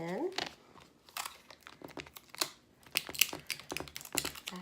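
Tape being pulled off a roll while wrapping a present, giving a few close, sharp crinkling and tearing bursts mixed with paper rustle, with a voice talking between them.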